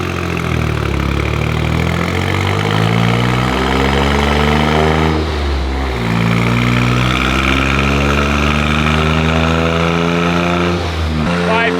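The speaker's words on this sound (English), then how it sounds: "By far one of the loudest cars I've ever heard or had, for sure." Toyota GR Corolla tuned to about 500 hp, running 42 psi of boost in fourth gear, roaring loud and close with a steady, strongly harmonic drone that dips briefly before pulling hard again.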